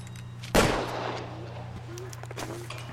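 A single loud gunshot goes off in the video game L.A. Noire, a sharp blast that decays into a lingering tail over a steady low background hum.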